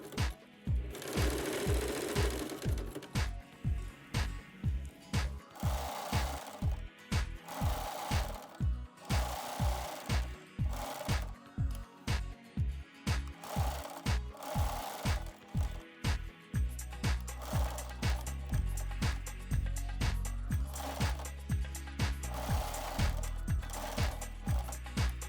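Sewing machine stitching around the edge of fabric piping for a cradle strap, a fast regular run of needle strokes that pauses briefly then resumes, close and steady with no talking.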